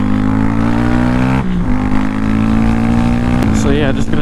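A Honda CB125R motorcycle engine drones steadily and loudly while riding up the coast, its pitch dipping and rising as the rider shifts and throttles, with wind rush throughout.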